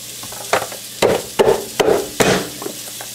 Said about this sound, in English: I'm going to stir the meat.